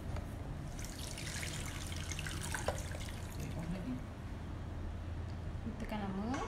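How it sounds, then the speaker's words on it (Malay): Water is poured into a cooking pot while making kuih kaswi, a soft steady trickle and pour under quiet background noise, ending with a rising liquid tone as the pot fills. "Kemudian kita akan masukkan air."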